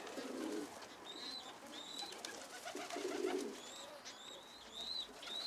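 Pigeons coo in repeated soft low calls, with higher chirps from other birds mixed in, moderately close in a quiet setting with no voices.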